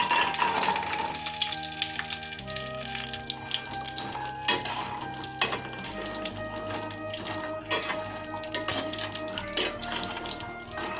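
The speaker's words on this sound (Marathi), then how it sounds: "आता आपण अक्रोड घेऊया भाजायला." Walnuts roast in ghee for a dry-fruit ladoo, giving a steady, moderate sizzle that runs the whole time beneath background music, with a few sharper clicks as the pieces are moved.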